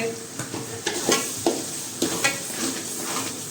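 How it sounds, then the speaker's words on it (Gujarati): Tomatoes with sugar and dried fenugreek leaves cooking in a pan, a gentle sizzle under repeated scraping stirs of a spoon, close by, with no talk. "હવે હલાવતા રહીશું આપણે ટમેટા ચડે અહીંયા સુધી"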